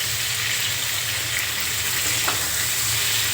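Shrimp fry steadily in hot oil in a home kitchen pan, a dense, even sizzle that stays loud and close throughout, with a faint stir or scrape near the end and no voices.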